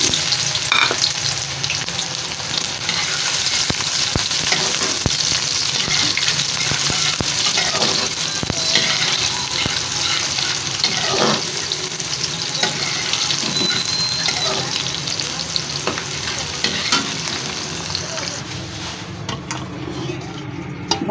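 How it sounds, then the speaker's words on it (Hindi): Onions frying in about half a cup of oil, giving a loud continuous crackling sizzle with watery hiss and occasional clatter, dropping away near the end. "इसमें प्याज को फ्राई कर लेंगे।"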